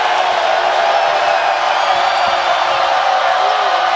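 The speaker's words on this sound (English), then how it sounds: "The crowd getting into it." Steady, loud roar of a basketball arena crowd at a college game between Cal State Fullerton and Hawaii, a dense wash of cheering voices that holds evenly throughout.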